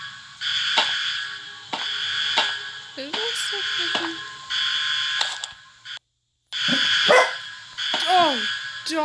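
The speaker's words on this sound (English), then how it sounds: "Oh, dog scared me." Repeated dog barks and yelps inside the SCP Containment Breach video game, loud and close over a steady droning hum, arriving in irregular bursts with one short silent gap.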